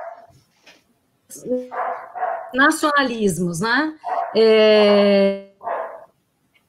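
A dog barks and yelps in several loud, close bursts, including one long drawn-out cry, mixed in with a person speaking Portuguese.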